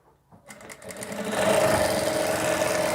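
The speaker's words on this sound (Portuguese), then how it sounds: "vou passar uma costura também fechando" A sewing machine runs a closing seam on a small cloth rag doll dress, starting after a brief quiet moment and building into a steady, fast continuous whir that holds loud to the end.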